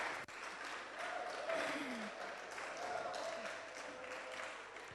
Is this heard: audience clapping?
yes